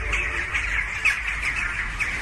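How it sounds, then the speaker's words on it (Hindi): Birds squawk in Turkey just before an earthquake, a rapid run of harsh, repeated calls close to the microphone over a low rumble of wind or traffic. "इस वीडियो में पक्षी अजीब तरह से बर्ताव कर रहे हैं।"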